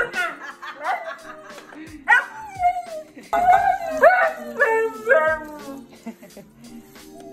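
Dogs whine, yip and bark during grooming in a bath, a run of high, wavering cries and short yelps close up, rising and falling in bursts with brief pauses between.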